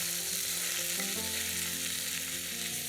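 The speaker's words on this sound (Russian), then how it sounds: "Немного ее обжариваем." Pork belly sizzles steadily in vegetable oil in a soup pot, a loud continuous frying hiss close up with faint stirring, no voices.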